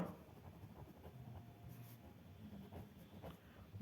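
Marker or chalk scratching across a classroom board, steady and close, with faint low room noise beneath and no talking.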